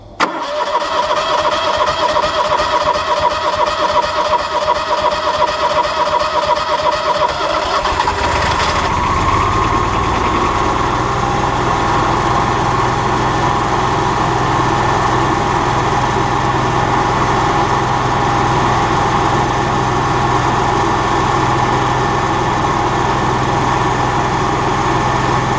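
Propane generator at a water facility cranks over briefly, then catches and settles into a steady, loud mid-pitched idle that runs on unbroken with no talking.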